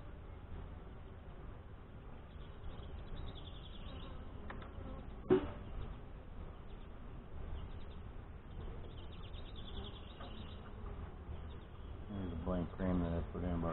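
Honey bees buzz around an open hive during an inspection, a steady close insect hum, with a voice talking over it.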